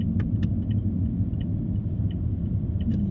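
A procession of vehicles at the Phi Ta Khon festival in Dan Sai, Loei, passes as a steady low engine rumble and road noise, with faint rattles and clinks scattered above it and no talking.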